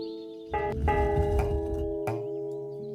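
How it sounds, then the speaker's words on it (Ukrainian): A bell in a video game is struck twice, each hit a bright metallic clang with a long ringing, harmonic tail; the second strike lands about one and a half seconds after the first. "Два рази вдарили в дзвін цей"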